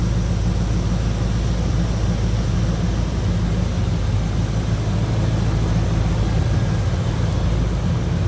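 A 1983 Chevrolet K10 Silverado with a 454 big-block V8 runs in a loud, steady, even drone that continues without a break.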